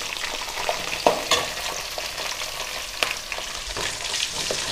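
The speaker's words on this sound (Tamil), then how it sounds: "ஒரு 2 நிமிஷம் நல்லா வதக்கிக்கலாங்க" Onion and green chillies frying in oil for mint chutney, a dense, continuous crackling sizzle up close with occasional sharper pops and stirring scrapes, no voices.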